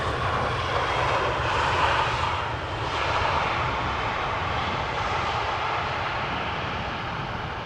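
An airplane landing at Amsterdam Schiphol with its thrust reversers applied makes a loud, steady broadband engine roar that swells slightly and holds close for the whole stretch, with no voices.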